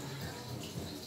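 A faulty water tap in a beach toilet in Turkey, running as a thin, faint, steady hiss of flowing water for the whole moment, with no speech.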